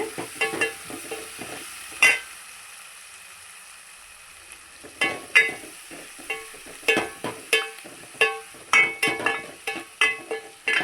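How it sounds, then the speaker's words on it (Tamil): Onions are stirred in a frying pan under a light sizzle, with a spatula clinking and scraping against the metal in bursts, quiet for a few seconds, then quick rhythmic strokes, no talking. "வெங்காயம் எல்லாம் போட்டு நல்லா கலந்துட்டு நல்லா கலந்து வரணுங்க."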